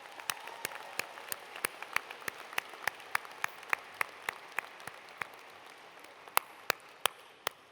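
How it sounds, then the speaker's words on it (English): Applause from a commencement audience, heard as sparse, sharp individual claps in a loose, uneven rhythm over a soft background hiss, fairly distant and thin rather than a full crowd roar. "I think they're worth another round of applause"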